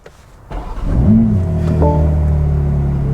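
A BMW X3 M engine cranks and turns over, rising to a loud rev before settling into a steady, close idle.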